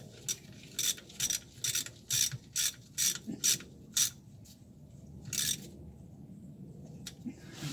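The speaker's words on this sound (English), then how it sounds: "Just a standard 3/8 ratchet is all we needed" A standard 3/8-inch ratchet clicks on the pinion nut of a 2004 Nissan Armada. Quick bursts of close, crisp ratcheting repeat steadily for several seconds, then turn sparse near the end, with no one talking.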